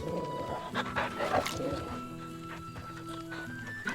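Torgal, the large wolf-dog companion in Final Fantasy XVI, pants softly and steadily beneath game music and ambient tones, with a couple of faint whimpers.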